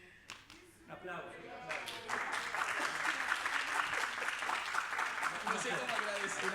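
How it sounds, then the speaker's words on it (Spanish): Applause at an award handover during a medical talk on COVID-19 starts with a few scattered claps after quiet, then swells into full, sustained audience clapping. Voices can be heard through it. "Un aplauso."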